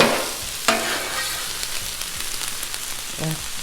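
Taco skillet mix on a Blackstone flat-top griddle sizzles steadily while a spatula scrapes and pushes the food across the hot surface, with several distinct scraping strokes and clinks over the continuous frying hiss.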